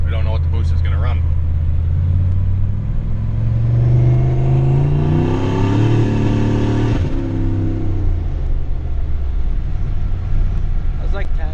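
A turbocharged Chevrolet Caprice police car accelerates hard on a test drive, its engine note climbing loudly and steadily to a peak before easing off, with a continuous close rumble throughout.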